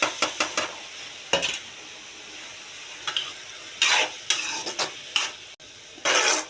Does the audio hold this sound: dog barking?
no